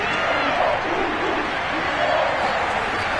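Loud, steady stadium crowd roar from a video game football match, a dense continuous din swelling slightly at moments, with no clear voices over it.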